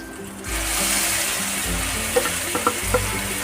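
Ground spice paste frying in hot oil for a kothimbir ball rassa curry, a steady close sizzle with a few faint clinks of a stirring spoon near the end.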